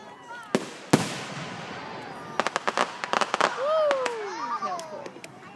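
Fireworks burst in a rapid series of sharp cracks and pops, some with whistling rising and falling tones, amid a crowd and people talking and cheering nearby.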